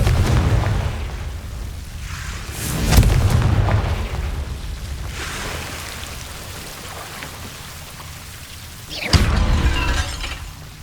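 Confringo fire spell explosions in Hogwarts Legacy, two loud booming blasts about six seconds apart, each with a crackling, shattering burst and debris rattle, set against a steady rumbling game ambience.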